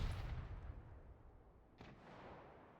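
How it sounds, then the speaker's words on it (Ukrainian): Artillery fire in a tank battle video game, a loud low boom at the start fading into rumbling, then a second fainter crack midway with a lingering distant rumble. "Пішла арта."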